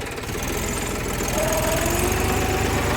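A 4x4 tractor with its four-wheel-drive gear engaged and a full rear bucket, levelling ground, gives a steady, loud, close diesel engine drone with a low knocking pulse and a rising whine near the end.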